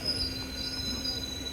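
A Kaveri Express train pulls into Arakkonam Junction, heard as a steady rolling rumble with a thin high metallic squeal running throughout, fairly close and without talk.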